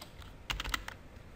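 Close computer keyboard typing during C++ coding: a short quick cluster of key clicks, then quiet.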